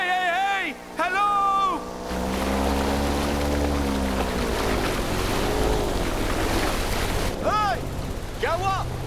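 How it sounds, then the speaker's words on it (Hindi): A boat moves on open water in a movie scene, its low engine drone and sea noise continuous beneath several raised voices calling out and talking throughout. "रुको, ये आवाज किसकी है? एक बोट है।"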